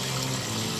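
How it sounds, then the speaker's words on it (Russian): Water rushes and splashes steadily down a wall, a dense continuous roar of falling water nearby. "Водопад на стене."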